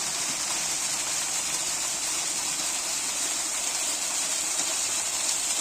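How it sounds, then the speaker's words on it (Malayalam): A small roadside waterfall on the hill road to Ponmudi gives a steady, even rush of falling water that fills the whole stretch with no pauses. "നല്ല ഭംഗിയുള്ള ഒരു കുഞ്ഞു വെള്ളച്ചാട്ടം കേട്ടോ."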